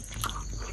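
Close biting and chewing on hot chapri flatbread eaten with mashed bhorta and curry gravy, a short crunchy mouth sound under steady low room hum, with no talk.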